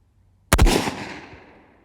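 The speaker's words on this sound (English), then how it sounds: "I'm going to fire 1 round, check it, and then adjust as necessary off that round" A single loud rifle shot from a Rossi lever-action gun fired while zeroing an Aimpoint ACRO P2 optic, a sharp close crack followed by a long rolling echo fading out over a second.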